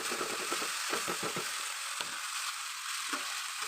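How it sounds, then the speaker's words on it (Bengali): Dal being stirred as it fries in a pan with tomato and coriander leaves, a steady broadband sizzle with a few soft scraping strokes early on, close and continuous with no talking. "সুন্দর করে আমি নাড়াচাড়া করে দেবো।"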